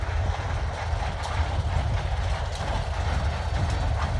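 A train rolls past near the rail yard at Sayre, Pennsylvania, a steady loud low rumble with faint wheel clatter on the track, close by and continuous, with no voices.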